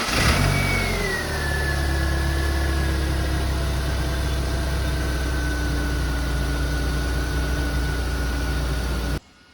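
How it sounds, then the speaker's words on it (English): A BMW E36 316i engine idles steadily with a low, even rumble and a faint whine, running alone without voices until it cuts off at the end. "now the car idles perfectly"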